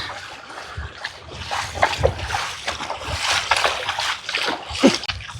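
A man wades through murky floodwater on Karaitivu island near Jaffna after heavy rain, with repeated irregular splashes and sloshing steps close by, moving steadily through the water.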